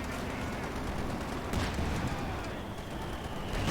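Bursts of .50 caliber machine gun fire sound in a WWII strategy video game battle in woods, with rapid rattling shots mixed into a dense background of distant gunfire and explosions.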